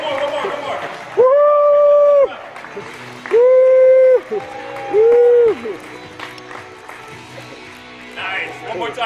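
Crowd at a youth success week event in Oceanside applauds over a steady bed of noise, broken by three drawn-out, sustained cheering shouts.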